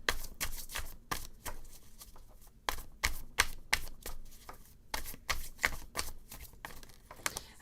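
Tarot cards shuffled by hand, bursts of crisp riffling and flicking close up, repeated in quick clusters with short pauses between them.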